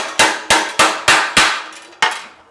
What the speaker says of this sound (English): take a chisel and then drive it down to the bottom like that, and then just open this up a little bit